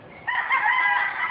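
A rooster crows loudly and close by in one sustained, strained call, with faint farmyard clucking underneath.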